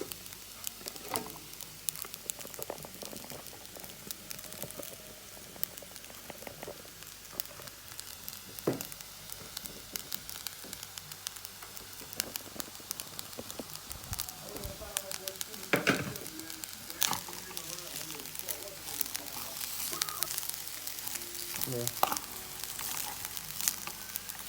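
Mixed vegetables sizzling in a pan of Jamaican fried rice, a soft continuous crackle with scattered sharper pops and occasional scraping stirs, fairly quiet and close, with no talking.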